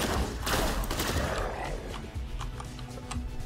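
Enemy gunfire in the shooter game STRAFE, a dense rapid crackle of shots with loud noisy bursts that ease into scattered pops over a continuous game soundscape, no voice.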